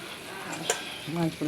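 Fish drops into a pot of taro and sizzles briefly, with a sharp metallic clink midway and scraping stir strokes near the end, close and moderately loud.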